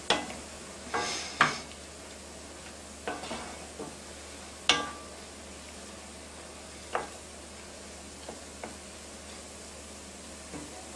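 Sage and thyme cook in a pan for cornbread stuffing with pork sausage, making a soft, continuous sizzle broken by several sharp spoon clinks and stirring knocks scattered across the clip.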